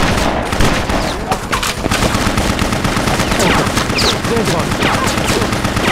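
Rapid, loud gunfire fills a BloodRayne video game fight in dense, overlapping bursts like machine-gun fire, with a short spoken line mixed in.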